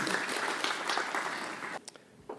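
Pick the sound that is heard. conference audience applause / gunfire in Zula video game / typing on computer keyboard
conference audience applause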